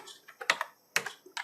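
HTML code is typed on a computer keyboard in a few quick, close, fairly quiet clusters of keystrokes separated by short pauses.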